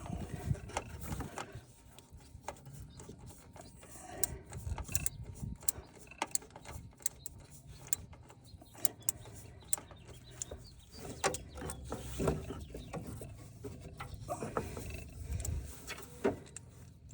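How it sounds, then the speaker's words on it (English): A small hand ratchet clicks in faint, uneven bursts while tightening a fuel hose fitting on a 1985 El Camino, the sharp mechanical ticks scattered against a quiet background. "There's a little ratchet."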